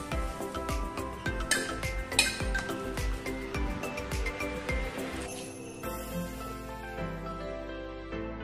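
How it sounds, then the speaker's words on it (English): Puran poli lifted off a pan onto a plate, with repeated close clinks and taps of a utensil against cookware and dishes, a busy kitchen clatter that thins to a quieter ringing tone near the end. "I'll just take it off onto this plate."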